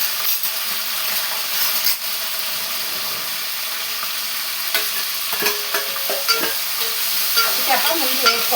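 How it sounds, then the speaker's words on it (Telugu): Dried fish and curry leaves frying in a pan, with a steady bright sizzle and crackle of hot oil and some stirring clatter toward the end, close and moderately loud. "ఎండు చేపలు వేపుకుందాం. కొంచెం కరివేపాకు ఈ చేపలు వేసుకుందాం."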